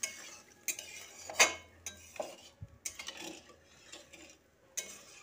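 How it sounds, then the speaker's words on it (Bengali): A spoon scrapes and clinks in a pan as hot water is stirred into a sizzling spice paste for an eggplant gravy, with irregular clatters and soft bubbling and no talk. "জলটা দিয়ে মশলার সঙ্গে ভালোভাবে মিশিয়ে নিচ্ছি"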